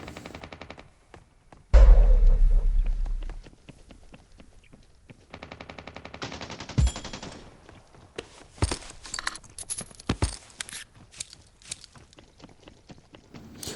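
Gunfire from the mobile battle-royale game Scarfall, with a loud rapid burst of automatic fire followed by scattered fainter shots and clicks in quieter game ambience.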